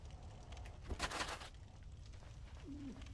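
Bird-people enemies in the video game Dark Souls Remastered give off faint, soft cooing calls over a quiet, rumbling background, with a brief louder burst in the middle.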